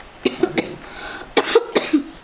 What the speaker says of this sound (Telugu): నీకు దగ్గు దమ్మున్నది కదనే